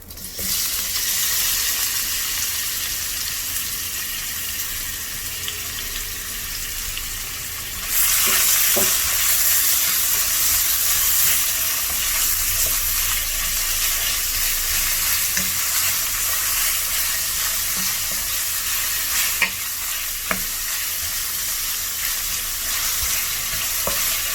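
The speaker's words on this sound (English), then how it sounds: "The ghee has already been heated up. I'm going to add in the onions." Onions fry in hot ghee in a pan, a continuous close hiss that jumps louder partway through and keeps crackling steadily, with occasional small clinks from stirring.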